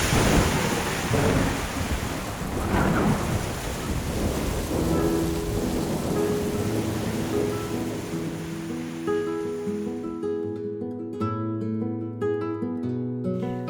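Heavy rain and rumbling thunder from the Catatumbo lightning storm in Venezuela. Dense storm noise fills the first ten seconds, then thins as a musical tone pattern takes over.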